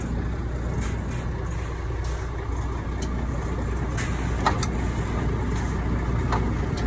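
A truck backs slowly to couple onto a trailer, its low engine idling steadily at a moderate distance with faint higher clicks over the rumble.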